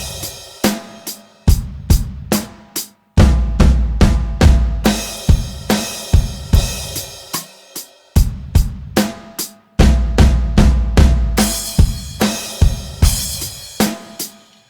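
A full kit groove and fill played loud and close, with snare and hi-hat strokes and bass drum thumps. Bursts of crash cymbal hit together with snare alternate with the foot in a repeating pattern, with no voices.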